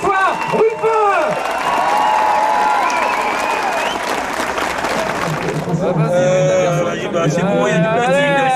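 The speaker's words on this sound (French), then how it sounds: "Un tonnerre d'applaudissements, s'il vous plaît, pour notre candidat à l'unité de la gauche" Applause from a crowd for candidate François Ruffin at a French political rally, dense clapping and cheering with whoops, then voices and chanting rise over the fading applause.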